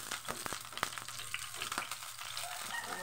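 Hot oil popping and spattering in a pan while ginger and onion fry, with a steady sizzle broken by several sharp, close pops scattered irregularly through it.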